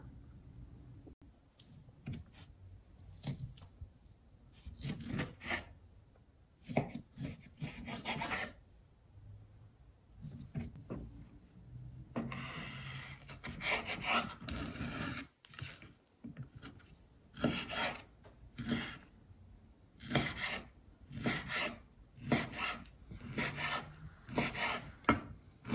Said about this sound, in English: I've sliced up the guanciale, see, in these nice little pieces